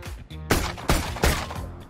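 Rapid bursts of gunfire from the RGX 11z Pro 2.0 skin in Valorant, arriving as several loud, close volleys spaced about a third of a second apart.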